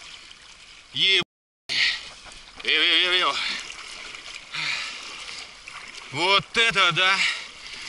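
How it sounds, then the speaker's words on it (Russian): A kayak ploughing through big waves, splashing and slapping water in bursts while a man lets out long, rising shouts and excited exclamations. "Никогда я на байдарке еще в такую волну не ебашил"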